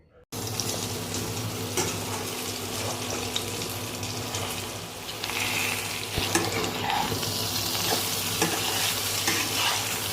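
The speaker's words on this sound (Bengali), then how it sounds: "কড়াইয়ে তেল দিয়ে বসিয়ে দেওয়া হলো। তারপর ঢেঁড়সগুলো দিয়ে ভেজে নিচ্ছে।" Okra fries in hot oil in a wok, a dense, steady crackling sizzle close by that runs the whole length after a sudden start, with occasional stirring clinks.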